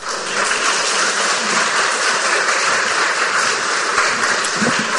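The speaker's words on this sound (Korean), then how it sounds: "나오실 때 할렐루야로 박수로 환영해 주셨으면 감사하겠습니다." A church congregation at a Sunday praise service claps loudly and steadily for a preacher coming to the stage, a dense, even wash of applause that holds without a break for the whole stretch.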